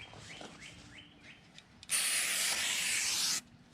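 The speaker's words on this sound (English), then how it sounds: "So you're just going to brake clean the front and back of the rotor." Brake cleaner sprayed onto a Mazda rear brake rotor: a few faint chirping squeaks, then a loud steady aerosol hiss lasting about a second and a half, close by.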